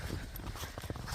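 A horse walks through snow and puddles on a winter outing from a stable, its hooves clip-clopping in a quick, uneven series of soft, close thuds over outdoor rustle.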